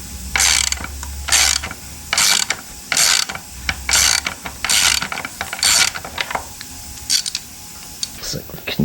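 A ratchet clicks in quick, loud bursts while a muffler is removed from a roughly 50-year-old 1970s dirt bike, with short pauses between each run of clicks.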